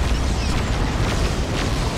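A grenade explosion in the Warhammer 40,000: Dawn of War 2 strategy game, a loud, dense roaring blast that fills the whole moment without a break.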